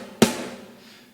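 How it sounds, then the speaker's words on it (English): A single crisp hit on a high-tuned Gretsch Bell Brass snare drum, bright and sharp with a short ringing decay, alone and close. "I'm using the Gretsch Bell Brass high tune snare."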